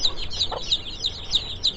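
Hens on a farm clucking in a steady repeating pattern, each short cluck recurring about every third of a second, close by and moderately loud with no talk over them; three brooding mother hens are sitting on eggs nearby.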